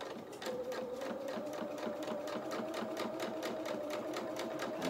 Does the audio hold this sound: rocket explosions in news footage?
no